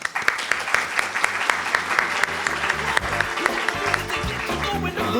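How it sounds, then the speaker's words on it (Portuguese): Loud, sustained clapping from a conference audience at a healthcare trade event, with sharp individual claps standing out over the crowd throughout. "a gente está aplaudindo todo mundo que está aqui"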